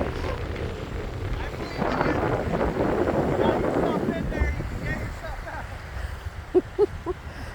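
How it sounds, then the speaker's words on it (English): Wind gusting at a chilly, windy little lakeside beach in Edgewater, rumbling against the microphone in rising and falling waves, with a few faint brief sounds near the end. "You don't have to paddle, the wind's pushing you."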